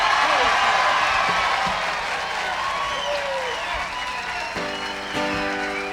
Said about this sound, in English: Let's give them a warm welcome and a big round of applause.